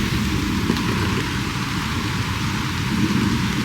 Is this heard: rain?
yes